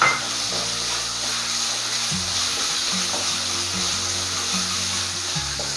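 Ground mint-spice paste sautés in a pan with a steady, moderate sizzle, close by, while a low tonal hum shifts in the background.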